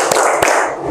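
A class of pupils claps the rhythmic tepuk fokus chant in a classroom, with two sharp claps standing out among busy background noise.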